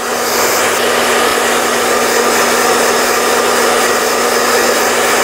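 A hair dryer blowing on hair during styling of a soft wavy perm, giving a loud, steady, close whooshing roar with a constant motor hum that runs unbroken from start to finish.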